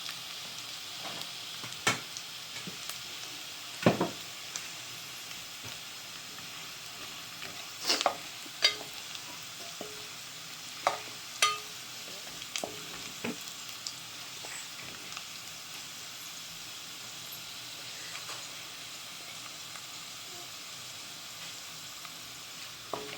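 Onions frying in oil in a pan for Gujarati stuffed karela, a steady close sizzle with occasional sharper crackles and stirring scrapes, no voices.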